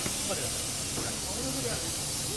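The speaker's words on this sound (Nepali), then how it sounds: "दुध चिनी कफी प्रेसरबाट स्टिम पानी नै हो त्यो एक प्रकारले अलिक प्रेसरमा आउँछ अनि कफी बनिन्छ" Steady, loud hiss of steam escaping from a pressure cooker used to brew coffee with milk and sugar, filling the whole stretch without a break, with faint voices underneath.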